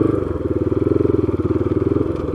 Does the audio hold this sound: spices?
no